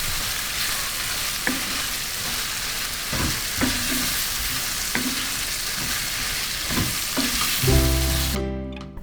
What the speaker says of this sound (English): Adding the carrots that have been cut up,